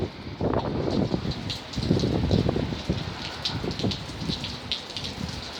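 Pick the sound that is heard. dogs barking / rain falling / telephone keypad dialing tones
rain falling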